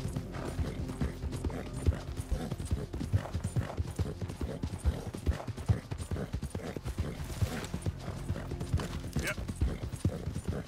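Horse hooves clip-clopping at a steady walking pace in the video game Red Dead Redemption 2, close and continuous over a busy bed of game ambience and faint mechanical clicks.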